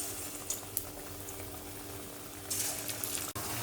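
Jackfruit bajji, batter-dipped pods of ripe jackfruit, sizzling in hot oil in a home kitchen, a steady close bubbling hiss that swells louder near the end with a few sharp spatters and no talk.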